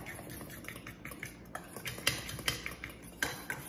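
Two eggs are stirred into coconut-flour chaffle batter in a bowl, giving quick clinks and scrapes of a utensil against the dish in an uneven rhythm, close and fairly quiet.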